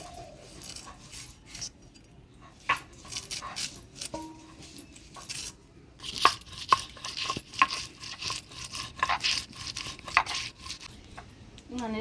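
Knife strikes chop elephant foot yam for a Bengali village-style fish curry, irregular sharp taps on a board growing busier and louder in the second half, with scraping and occasional kitchen clinks between.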